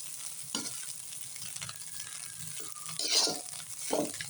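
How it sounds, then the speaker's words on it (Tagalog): Garlic fried rice (sinangag) being stirred in a pan for breakfast, giving soft scraping and low frying crackle with a few louder spatula strokes, no talk. "Haluin natin ng maigi para mahalo yung timpla at pampalasa na nilagay natin."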